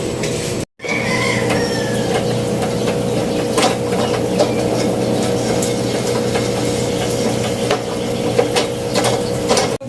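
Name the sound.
electric sewing machine running, pedal pumped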